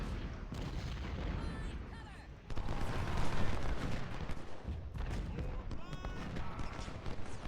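Battlefield din from the Civil War strategy game Ultimate General: Civil War, with booming artillery and musket fire rolling continuously and swelling midway, dense and moderately loud, while voices murmur underneath.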